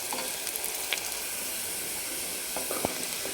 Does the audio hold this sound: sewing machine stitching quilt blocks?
no